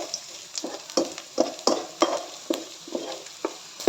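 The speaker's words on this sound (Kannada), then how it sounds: "ಸೊ ಈ ರೀತಿ ಫ್ರೈ ಮಾಡ್ಕೊಂಡಷ್ಟು ಟೇಸ್ಟ್ ಬರುತ್ತೆ ನೂಡಲ್ಸು." Vegetable noodles stir-fried in a pan over a medium flame, a steady sizzle broken by regular scraping and tossing strokes of a spatula against the metal, close and fairly loud with no talking.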